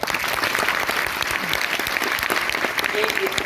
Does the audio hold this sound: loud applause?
yes